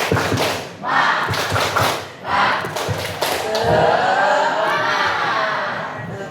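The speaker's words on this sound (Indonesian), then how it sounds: "Coba deh tepuk semangat dulu yuk" A classroom of students performs the rhythmic 'tepuk semangat' clapping chant, bursts of loud group clapping and shouted voices in quick sequence, then a sustained crowd-like roar filling the room.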